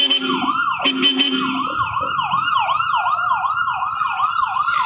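A fire truck's wailing siren sweeps up and down repeatedly, loud and steady, with the engine rumbling underneath, arriving at a fire.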